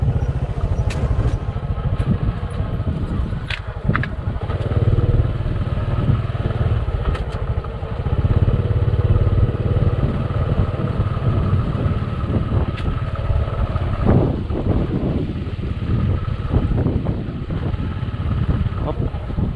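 A motorcycle engine rumbles continuously while riding over uneven, potholed farm ground past cornfields in Cagayan, Philippines, with clattering bumps and shifting revs; a voice talks intermittently over it.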